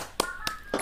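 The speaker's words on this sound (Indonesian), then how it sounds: "Ayo, tepuk semangat." Children in a classroom do the 'tepuk semangat' clapping chant, three sharp, close hand claps in quick rhythm with faint young voices.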